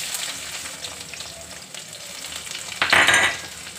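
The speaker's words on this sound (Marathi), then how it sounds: "लसूण मस्त ब्राऊन तळून घ्यायचं" Garlic frying in hot oil while cooking lasuni methi, a steady close sizzle that flares into a loud, bright hiss for a moment near the end as the pan is stirred.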